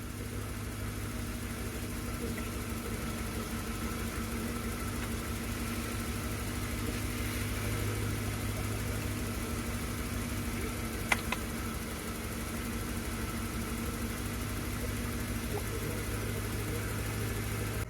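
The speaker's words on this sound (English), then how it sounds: "I'm actually just going to run the engine and pull oil from that oil cap" An engine idles steadily while oil is drawn from its oil cap for a centrifuge, a continuous low hum with a faint vibrating drone, close and unchanging, with a brief tiny click near the end.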